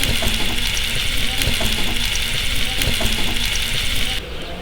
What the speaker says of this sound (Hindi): गाजरां थोड़ा जिहा फ्राई करांगे ताकि इहदे विच जिहड़ा कच्चापन वो खत्म हो जाए